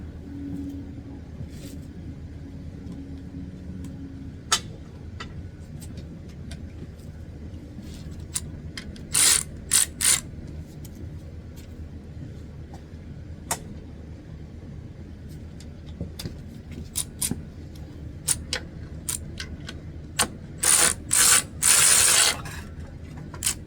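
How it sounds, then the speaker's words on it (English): Hand ratchet working bolts loose on the front end of a rusty 1970s John Deere 400 garden tractor, with scattered clicking bursts and a few loud rapid ratcheting runs, close up against a steady low background hum. "Pull these bolts out."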